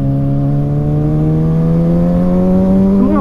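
A Kawasaki Z900 inline-four motorcycle accelerates hard nearby, its loud, smooth engine note rising steadily in pitch over a few seconds with no talking.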